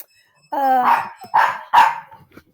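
A dog barks three times in quick succession, close and fairly loud, with a yelping, tonal edge.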